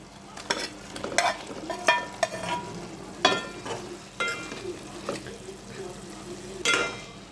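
Paneer pieces with chili powder stirred into gravy in a pan, giving a string of soft scraping strokes and light clinks over a low, steady sizzle, fairly close.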